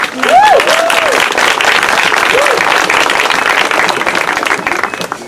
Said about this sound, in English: we can give him a round of applause, please.